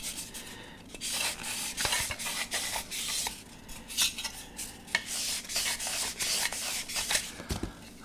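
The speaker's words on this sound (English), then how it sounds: "And every time we sand this, the area we're sanding widens." Sanding a 1/200 plastic model ship hull by hand, producing quiet, repeated scratchy rubbing strokes in an irregular back-and-forth rhythm, close up and without voices.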